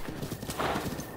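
Horse hooves clip-clop in Zelda Breath of the Wild, a quick uneven patter with a whinny rising midway, moderately faint and without talk.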